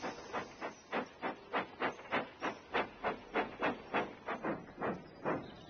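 A steam tram engine puffs in a quick steady rhythm, about twenty regular hissing chuffs of steam evenly spaced and fairly close, with no talking.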